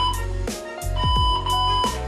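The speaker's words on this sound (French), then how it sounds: "jusqu'au bout, jusqu'au bip" A series of electronic beeps from a workout timer during a core exercise session rings out over a steady low hum, with short tonal chirps repeating at irregular intervals.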